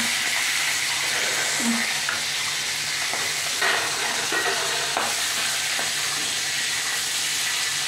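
Black cumin seeds and four green chillies frying in mustard-blended oil in a pan, a dense continuous hiss and sizzle with a few faint utensil knocks, close and steady, with a little background voice.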